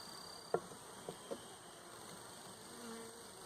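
Honey bees from a package being installed into a hive, a faint steady buzz with a few brief knocks and taps on top.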